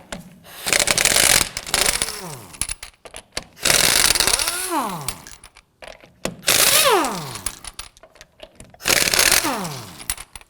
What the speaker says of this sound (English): Now we're going to use our 19mm socket to loosen and remove the lug nuts.